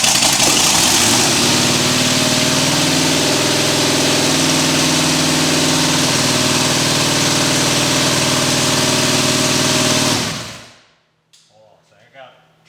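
The big-block engine of the Equalizer monster truck idles loud and steady at close range for about ten seconds, then cuts out abruptly into near silence with faint movement.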